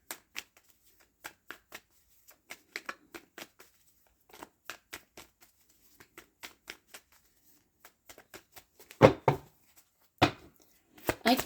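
Tarot cards being shuffled by hand, a quiet run of crisp flicks and taps spread out at uneven intervals, ending in a few louder riffling bursts near the close.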